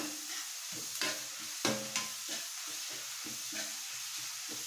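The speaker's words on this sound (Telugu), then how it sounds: "ఉల్లిపాయ ముక్కలు బాగా వేయి వేయించాలి ఉల్లిపాయల ముక్క అయితే బాగా వేగింది" Onion pieces fry in a pan for a Nellore-style fish curry, giving a low, soft steady sizzle with intermittent spatula scrapes and taps, quiet and close, without speech.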